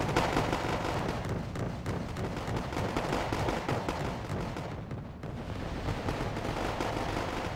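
Artillery firing napalm rounds in the video game Wargame AirLand Battle, heard as a dense, continuous rumble of distant booms and explosions at a steady loud level.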